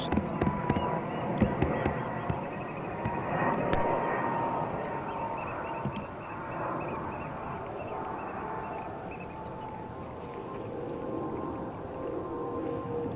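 Airport ambience at JFK with a Boeing 737 MAX 8 airliner, a steady broad roar of jet engine noise holding at moderate level throughout, with faint tonal whines riding over it and no talk.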